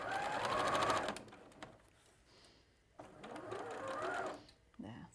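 A domestic sewing machine stitches in two close bursts, whirring steadily for about a second each with a brief pause between them, while a person talks quietly over and between the runs.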